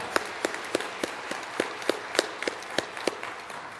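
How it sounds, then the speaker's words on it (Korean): Scattered hand claps from a small church congregation at a Friday worship service, a dozen or so distinct claps spaced irregularly, soft and somewhat distant. "우리 하나님 아버지 앞에 큰 박수로 영광을 드리겠습니다"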